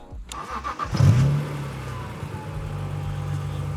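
A supercharged E46 BMW M3 engine cranks and fires up with a brief rev, then settles into a low, steady idle rumble.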